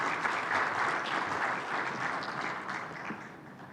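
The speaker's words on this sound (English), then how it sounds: "Please give us a round of applause." Moderate applause from an audience at a conference session on artificial intelligence, continuous clapping at a fairly soft level that tapers slightly toward the end.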